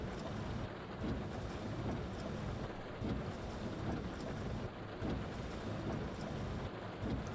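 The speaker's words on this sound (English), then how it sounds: "So I could just sit here in a storm and just listen to the rain on the bus." Rain patters on a bus during a storm in the driving game The Bus, a steady, dense wash of drops and wind-like noise with soft recurring swells, no voices.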